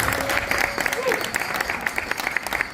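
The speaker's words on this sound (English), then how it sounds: "So give her a round of applause." Audience at a Fremont civic event applauds the city's first female fire chief, a brief patter of clapping that stays fairly soft and even.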